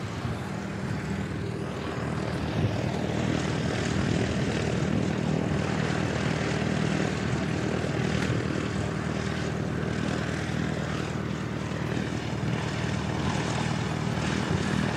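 A Boeing 777-300 in All Blacks livery at Christchurch Airport gives off a sustained, loud jet engine roar, a steady broadband rumble that holds through the whole stretch with no voices.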